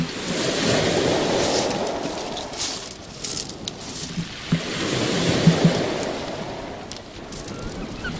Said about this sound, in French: on vous laisse avec le bruit des vagues et le cri des mouettes